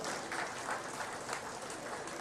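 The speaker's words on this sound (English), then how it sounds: "Let's give them all a round of applause." Audience applause at a livestock show ring during a county buckwheat festival, a steady, faint wash of clapping from a distant crowd with no voices over it.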